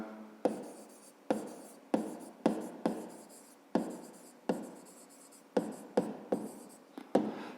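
Pen or pencil handwriting a maths answer, the perimeter of a triangle in centimetres for a fifth-grade exercise: about a dozen close, scratchy strokes in irregular bursts with short pauses between them, and no talking.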